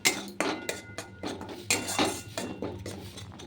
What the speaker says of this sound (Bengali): এটা দিয়ে একটু স্ম্যাশ করে নিচ্ছি সিদ্ধ করা ছোলাটা